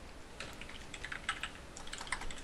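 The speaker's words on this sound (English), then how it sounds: "You're typing." Rapid clicking on a computer keyboard, a steady run of quiet, close keystrokes with slight bursts, under faint background hiss and with no talking.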